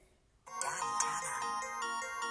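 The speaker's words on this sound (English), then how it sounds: "I'm going to go ahead and bring up the music player on my phone and start the music." Music starts playing from a phone speaker after being launched from a smartwatch, a bright, tonal melody that begins abruptly after a brief quiet moment and carries on at a steady moderate level.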